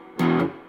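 A single short distorted electric guitar chord from a Stratocaster on the neck pickup, buzzing and saturated, struck once and cut off quickly.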